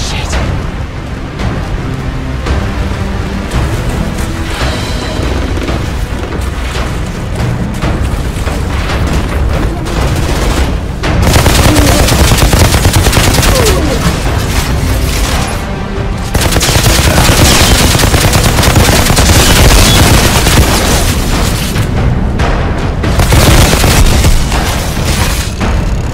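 Heavy gunfire and explosions from the video game Outriders, with loud, sustained automatic fire and booming blasts that swell into denser volleys partway through.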